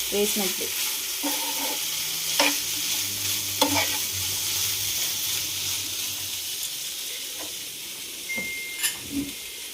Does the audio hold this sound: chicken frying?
yes